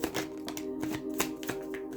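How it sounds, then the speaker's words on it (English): Deck of tarot cards being shuffled by hand during a reading, a close, quiet series of quick riffling flutters and soft taps over a faint steady hum. "Let me just shuffle it one more time."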